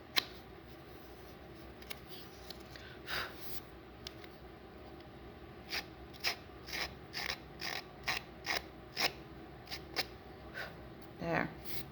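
Edges of patterned designer series paper roughed up by hand, a run of quick rhythmic scraping strokes that grows busier after a quiet start, close and fairly soft.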